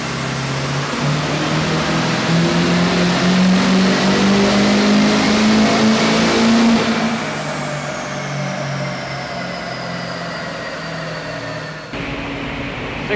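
LB7 diesel truck with a Stealth 64 turbo on a dyno, the engine revving hard and climbing in pitch with a rising turbo whine, then backing off to a lower steady drone, loud and close.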